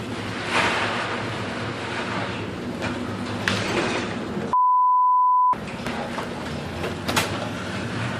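Storm-driven sea waves and surf make a steady, heavy roar with surging swells, briefly cut out by a single electronic beep tone before the roar resumes.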